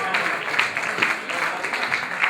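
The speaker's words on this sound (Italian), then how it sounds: "Un applauso." An audience at an evening poetry gathering claps steadily, a dense, even patter of many hands that continues throughout at moderate volume.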